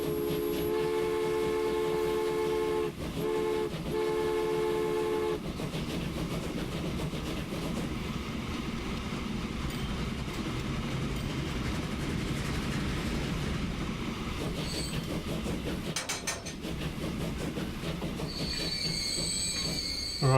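A freight train in the railway simulation game Transport Fever rolls past with a steady, loud rumble of wheels on track and sustained metallic squealing, a brief horn-like tone near the start and shrill squeals again toward the end.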